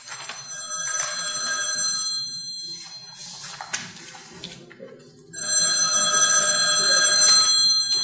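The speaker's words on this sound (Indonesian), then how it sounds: "Telepon berbunyi terus." An old-fashioned telephone bell rings in a radio drama, sounding in repeated loud trilling bursts separated by a short quieter gap, with no voices over it.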